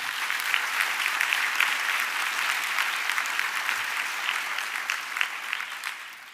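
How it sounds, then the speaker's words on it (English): Healthcare sciences graduates at a declaration ceremony applaud themselves in a hall, filling it with sustained, dense clapping. It holds at a steady, fairly loud level throughout and eases only slightly near the end. "Can we take a moment to actually applaud yourselves for getting"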